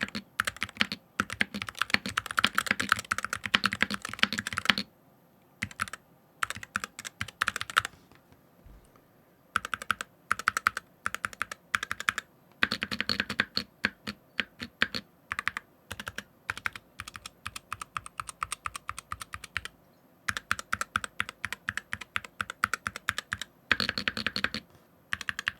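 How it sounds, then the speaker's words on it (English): Rapid typing on an Endgame KB65HE Hall effect mechanical keyboard, crisp clacky keystrokes in quick bursts with brief pauses, close and alone with no voices. "And now here's the keyboard."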